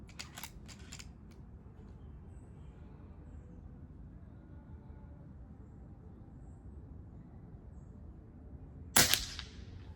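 An air rifle fired at a target outdoors, a single sharp crack near the end of a quiet stretch of low background noise, preceded by a few faint clicks at the start.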